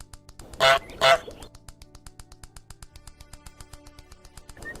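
The desktop goose program lets out two loud, close honks on screen over a fast, steady ticking loop in the background.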